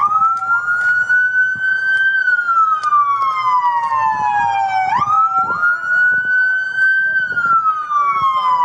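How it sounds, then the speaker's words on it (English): A loud police siren wails nearby, sweeping slowly up and down in long continuous cycles, with a few faint clicks underneath. "It's sirens."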